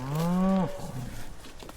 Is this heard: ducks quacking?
no